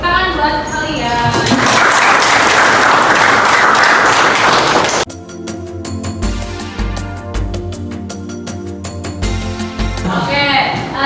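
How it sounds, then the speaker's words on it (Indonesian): Students in a conventional machining class applauding, a few seconds of loud, close clapping from a small group, followed by a stretch of music with a voice speaking briefly before and after. "Tepuk tangan buat kalian."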